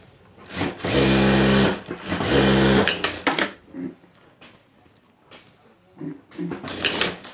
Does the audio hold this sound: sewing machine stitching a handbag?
yes